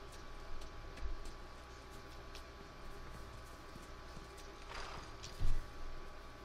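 Horse hooves in The Last of Us Part II, soft scattered thuds under a steady hum of ambient noise, with one or two firmer knocks standing out.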